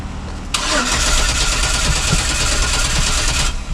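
A cheap SUV with a cold-start problem cranks briefly and then fires into a loud, steady, rough-sounding idle that holds for about three seconds before cutting off.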